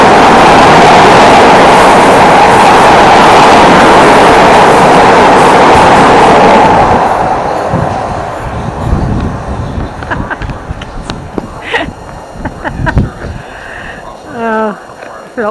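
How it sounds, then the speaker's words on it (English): A train rushes through a station platform without stopping, a loud close roar of wind and rolling wheels for several seconds that then fades, leaving quieter rattles, clicks and brief speech-like sounds. "Got a train coming through here."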